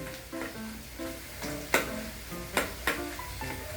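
Garlic frying in a pan for bagoong alamang, a soft continuous sizzle under spoken talk, punctuated by a few sharp clinks of a utensil against the pan.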